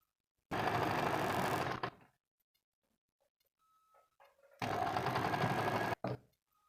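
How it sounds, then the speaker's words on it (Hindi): A sewing machine stitches the pleats of a frock in two loud, steady motor runs, each lasting over a second, separated by a quiet pause with faint handling clicks. "फिर मैं सिलाई कर रही हूँ।"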